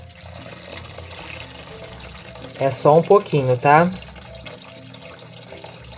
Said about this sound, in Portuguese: a gente vai colocar água dentro da bacia de ágate, junto com o quiabo